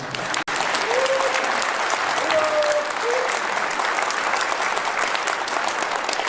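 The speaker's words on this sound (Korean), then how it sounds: "박수 한번 부탁드립니다" Steady applause from a large crowd at a meeting of President Lee Jae-myung with Koreans in China during a speech, dense and sustained throughout, with a few faint tonal whistles or voices rising briefly above the clapping.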